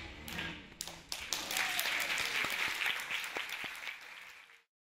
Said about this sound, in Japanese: それぞれのサークルの発表が終わると会場から惜しみない拍手が送られていました。